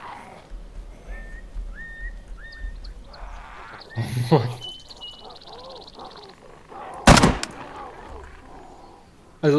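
Isolated gunshots in the survival game DayZ, a couple of loud sharp cracks standing out against quiet ambient game sound and whistle-like tones, with a voice talking faintly in between.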